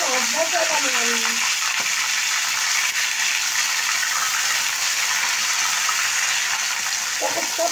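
Chicken pieces sautéing in a pan give off a steady, bright sizzle that runs the whole time, with a brief voice at the start and again near the end.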